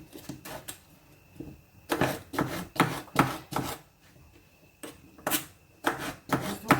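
Cucumbers sliced with a crinkle-cut knife for quick lightly salted pickles, a run of sharp, close chopping strokes in irregular bursts with brief pauses between groups.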